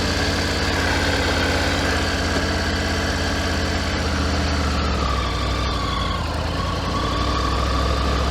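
A 2024 Triumph Tiger 900GT motorcycle engine idles steadily and close, a continuous loud rumble with a slight shift in tone partway through.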